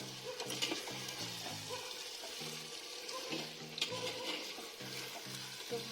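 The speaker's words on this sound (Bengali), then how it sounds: "চলুন এবার কিছুক্ষণ মাংসটা আমি কষিয়ে নেব।" Meat sautéing and being stirred in a pot over a high gas flame, with steady sizzling and repeated scraping, stirring strokes, close and continuous.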